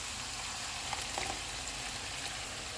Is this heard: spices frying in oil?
yes